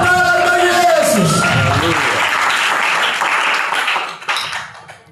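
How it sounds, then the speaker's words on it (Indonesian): A church congregation bursts into loud applause and cheering at a Christmas sermon, sustained for several seconds before tapering off, with voices mixed in. "Berikan tepuk tangan bagi Yesus."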